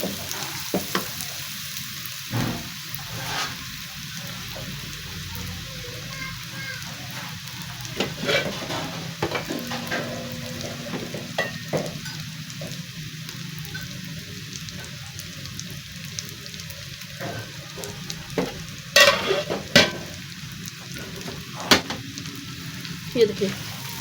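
Garlic paste fries in a kadai for a moong masoor dal tadka, a steady loud sizzle with intermittent spoon scrapes and stirring clicks, no voices over it.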